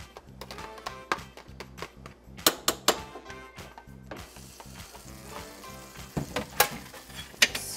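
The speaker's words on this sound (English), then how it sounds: "So now we're going to put the ground chuck and onions into the sauce." Ground chuck and onions sizzle as they are stirred into spaghetti sauce, with sharp spoon clanks against the pot and a hiss that swells midway, all under quiet background music.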